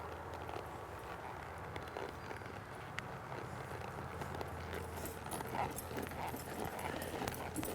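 A ridden horse loping across an arena, its hooves drumming in a steady, fairly close three-beat rhythm over a constant bed of background noise, with no talk.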